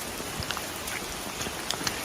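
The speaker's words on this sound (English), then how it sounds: "Torrential rain" Torrential rain pours steadily on the Trillium trail, a dense, even wash of drops with a few sharper patters standing out, no voices present.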